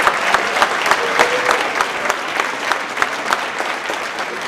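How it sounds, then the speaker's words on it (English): Sustained audience applause at an African Heritage Month opening night event in Halifax, a dense, steady crowd clapping that fills the whole stretch without voices. "Can we have another round of applause for Mr."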